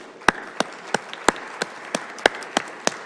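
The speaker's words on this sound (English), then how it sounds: "applause." Scattered, widely spaced handclaps from a small audience at an Irvine city council meeting, roughly a dozen sharp claps over a few seconds against a quiet room hum, with no voices.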